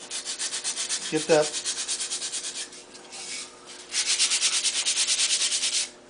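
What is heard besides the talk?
sanding a lefse stick edge with sandpaper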